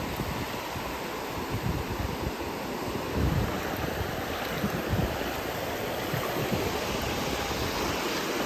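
Sea waves wash onto a beach at Riviera de São Lourenço in Bertioga, a continuous broad roar of surf with wind buffeting the microphone and a few slightly louder swells midway.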